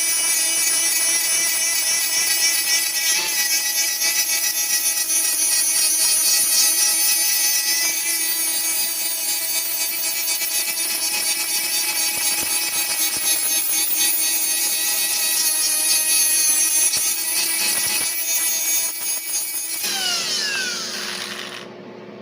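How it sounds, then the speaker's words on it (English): A die grinder cleans paint off a cast iron flange at a workbench, giving a steady, loud high-pitched whine that runs without a break for about twenty seconds before its tone shifts and trails off near the end. No talk. "got the die grinder out. Just clean the paint off of this thing"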